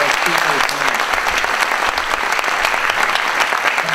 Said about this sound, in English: One more round of applause for our great speakers tonight.